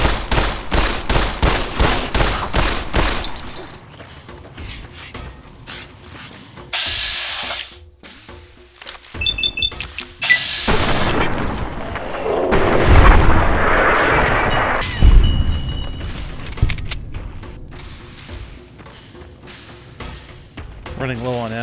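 Rapid 10mm pistol shots in Fallout: New Vegas, a fast train of sharp cracks at the start followed by scattered gunfire, thuds and chaotic combat noise, with a player talking over it.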